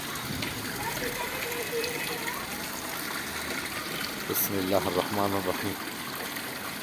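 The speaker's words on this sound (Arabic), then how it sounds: "هاي المي" Spring water at Ain al-Fijeh near Damascus rushes and gushes steadily, a continuous broad wash of flowing sound, as someone speaks briefly partway through.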